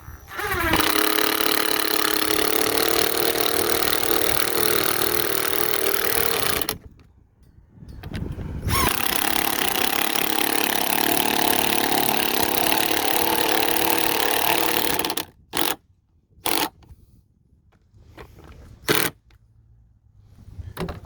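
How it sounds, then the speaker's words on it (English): A drill drives lag bolts into wood while a hose reel is mounted, giving long loud whirring runs that stop abruptly, then several short bursts as the bolts seat, close up with no talking. "then we'll hammer them home with the drill."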